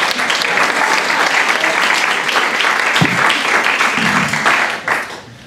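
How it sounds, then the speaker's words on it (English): An audience at a Minneapolis Park Board race event claps loudly and continuously for nearly five seconds, a dense even roar of hands that cuts off quickly at the end. "could we give a round of applause to the League of Women Voters?"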